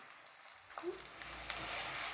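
Edible gum (gond) puffing in hot ghee for adadiya: a soft, steady frying hiss builds after a near-silent opening and holds fairly faint to the end.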